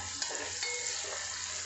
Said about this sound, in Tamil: இப்போ தக்காளி ஆட் பண்ணிடலாம் தக்காளியும் நல்லா வதங்கட்டும்